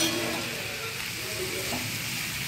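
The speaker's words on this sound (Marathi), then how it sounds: "आता आपण परत जरासा कांदा हलवून घ्यायचा" Chopped onion sizzling and frying in a pan over low gas while being stirred for an onion bhaji, a steady loud close hiss with scraping stirring and no voices.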